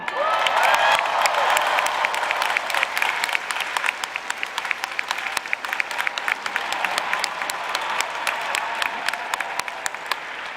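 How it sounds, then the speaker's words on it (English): A large crowd applauds at the 2024 UCLA College Commencement Ceremony in Pauley Pavilion, a loud, dense and sustained wash of clapping that runs throughout with only slight dips in intensity. "So there's a lot of cheering to do today, okay?"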